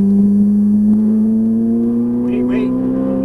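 Ferrari 458 Italia V8 on a racing circuit, held at a steady throttle, giving a loud, even engine drone with a slowly rising pitch from inside the car, and a voice speaks over it.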